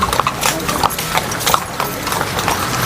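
Horse hooves clip-clop in a steady, close rhythm, with speech-like sounds faintly mixed in behind the hoofbeats.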